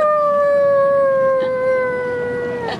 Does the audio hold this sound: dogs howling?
yes